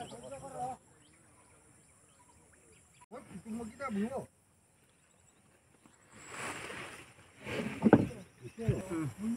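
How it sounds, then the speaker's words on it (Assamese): A rowboat ferry arrives to carry people across a river, with low splashing and knocking that builds toward the end, while people talk nearby at a low overall level. "এতিয়া নাও আহি আছে"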